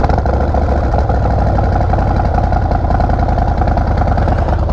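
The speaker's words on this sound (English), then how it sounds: "now let's try to start the engine" A motorcycle engine idles loud and close in a steady, even rumble that holds without a break, with no voices over it.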